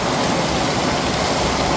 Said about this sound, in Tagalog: Dati gusto namin ng ulan, pero hindi naman ganitong ulan.